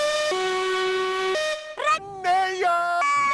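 Peter Sam, a narrow-gauge steam engine, sounds his whistle in a long, loud, clear tone, then gives several shorter, wavering toots close by.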